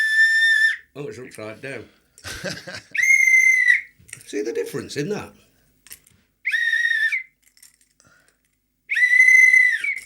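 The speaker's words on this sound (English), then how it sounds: "put the whistle down" A referee's whistle is blown in several sharp, loud, shrill blasts spaced apart, with people talking between the blasts.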